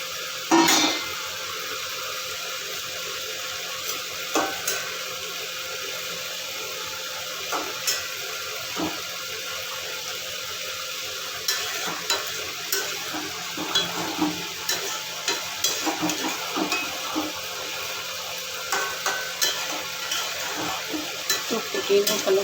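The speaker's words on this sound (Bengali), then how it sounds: "ভাজা মাছগুলো সবটাই দিয়ে দেবো" Fried fish is added to a simmering fish curry and stirred, a steady bubbling and sizzling with repeated clacks and scrapes of a spoon against the pan, close and continuous.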